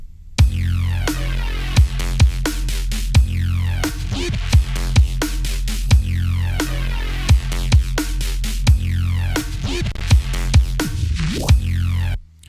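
Electronic bassline programmed entirely in MIDI, loud and steady, with a deep sustained synth bass under sharp, regularly spaced percussive clicks in a driving, looping pattern.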